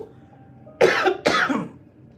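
Two hoarse coughs close to the mic, one right after the other, each a harsh broadband burst with quiet room noise around them.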